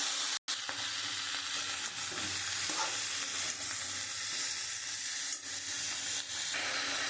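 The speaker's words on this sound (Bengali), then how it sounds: "আমি মশলা দিয়ে খুব ভালো করে কষিয়ে নিয়েছি।" Chilli, turmeric, cumin, salt and tomato frying together in a pan, a constant hissing sizzle with light stirring scrapes throughout, a brief dropout near the start, steady and close, no voices.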